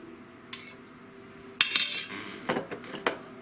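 A spoon clanks against the metal rim of an Instant Pot pressure cooker while making beefy ramen stir fry, a few sharp metallic taps and knocks close up, separated by short pauses, with no talking.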